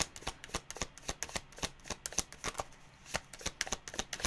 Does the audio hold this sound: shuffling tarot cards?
yes